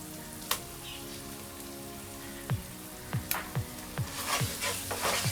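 A ground paste of raw onion and coconut fries in a pan for egg masala curry, with a soft sizzle under a series of scraping stirs that grow more frequent toward the end.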